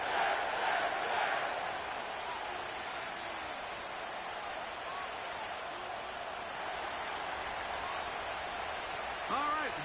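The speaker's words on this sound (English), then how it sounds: "The crowd is definitely ready" A large stadium crowd in the Madden football game roars and cheers at MetLife Stadium in East Rutherford, New Jersey, forming a steady, broad wash of noise throughout that swells slightly at the start and the end.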